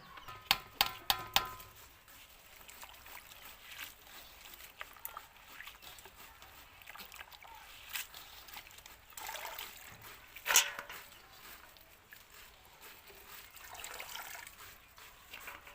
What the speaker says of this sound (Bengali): পাতাকপিটা এবার আমি ভালো করে ধুয়ে নেব দুবার দুই তিনবার ধুয়ে নেব